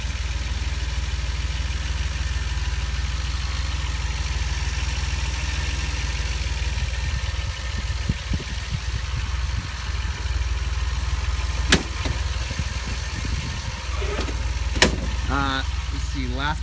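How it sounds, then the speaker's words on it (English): A 1981 DeLorean DMC-12 engine idles with a steady, even rumble that holds throughout, broken by a few faint clicks and knocks near the end. "And there's the engine."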